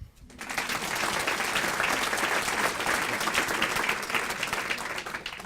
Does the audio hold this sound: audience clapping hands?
yes